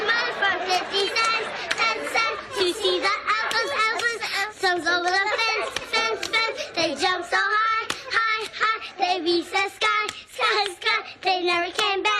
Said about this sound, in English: the clapping pattern is clap own hands together, then cross arms in front of your chest, then clap own hands together, then clap hands with partner 3 times